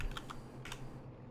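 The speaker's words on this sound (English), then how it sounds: "Man's typing out names." A man types names on a computer keyboard during a sim racing league broadcast: a short, faint burst of a few quick key clicks.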